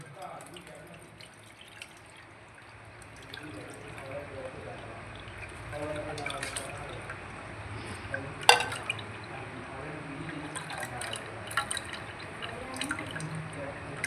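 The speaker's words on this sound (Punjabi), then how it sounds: "ਉਹਦੇ ਨਾਲ ਇਹਨੂੰ ਛਾਨ ਲੈਣਾ ਆਪਾਂ ਇਮਲੀ ਨੂੰ" Soaked tamarind pulp is strained through a sieve or thin muslin cloth for a sweet-and-sour chutney, making soft, close, intermittent wet drips and trickles that grow a little busier toward the end.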